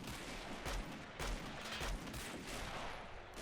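Machine gun and rifle fire in a massive World War One field battle in the Men of War: Assault Squad video game, with dense overlapping bursts and shots, some distant and muffled, rolling continuously throughout.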